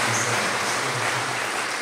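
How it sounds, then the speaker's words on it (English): Congregation at a church service claps to welcome a woman to the front, a dense, steady wash of applause heard from within the room. "Let us receive her with a clap"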